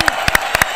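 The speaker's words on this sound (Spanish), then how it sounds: "Los aplausos." Applause in a studio for the first Argentine to complete the 2022 World Cup sticker album. It comes as a short burst of near, sharp, uneven claps from a few people, loud and close.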